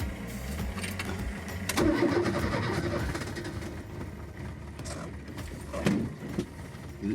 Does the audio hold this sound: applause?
no